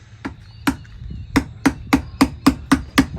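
Sharp metallic hammer taps on a copper rivet, about nine strikes in a steady rhythm that quickens slightly, close and clear with no talking.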